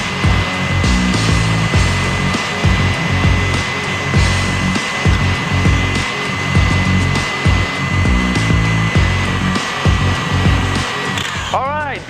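A stand mixer whips Swiss meringue on high speed, a loud, steady motor whir with beater rattle running continuously and close throughout.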